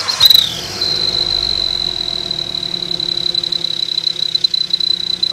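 A turbo whistle silencer fitted on a Wagon R car's exhaust lets out a sharp whistle burst at first, then holds a thin, continuous high whistle over the low, steady idle of the engine. Nobody speaks.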